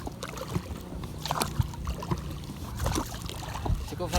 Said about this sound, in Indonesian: Cukup satu orang yang dayung